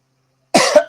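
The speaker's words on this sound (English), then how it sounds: "Still have the friggin' post-COVID cough." A single sharp post-COVID cough bursts out after a stretch of silence, close and loud, with a second short cough starting right at the end.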